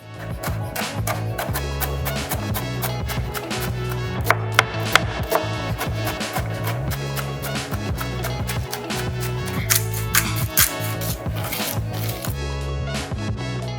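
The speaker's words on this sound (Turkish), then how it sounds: "Şimdi tavuğumuz haşlanırken biz sebzelerimizi doğramaya geçebiliriz." Rapid, rhythmic knife chops of vegetables on a board, steady and close, over constant background music.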